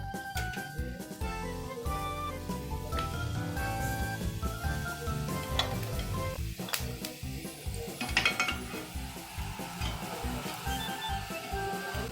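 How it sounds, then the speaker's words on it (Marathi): Samosas slip into hot oil in a kadhai, a continuous soft sizzle mixed with clinks and scrapes of a spoon against the pan, close by with no talking. "आता मी हे समोसे तेलात सोडते."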